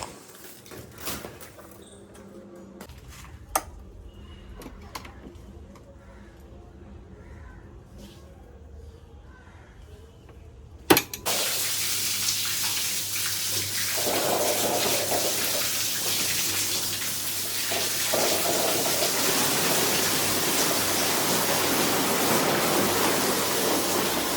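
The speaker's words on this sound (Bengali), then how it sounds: "এই উপরের ওয়াল জুড়ে পুরো প্লাস্টার হয়েছে এখানেই জল দেব" Water sprays steadily onto a freshly plastered upper wall inside a room of a newly built house. It starts as a dull, intermittent rush, then becomes a loud, continuous hiss that persists to the end.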